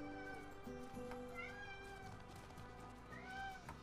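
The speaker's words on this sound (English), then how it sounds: "My cat walks down," A house cat yowling loudly in repeated drawn-out meows, close by, with a few calls rising and falling in pitch against a background of steady game music.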